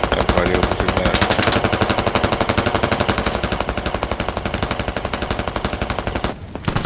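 Sustained rapid automatic gunfire in the video game Squad, loud and close, with dense rhythmic bursts running almost without pause and a brief lull near the end.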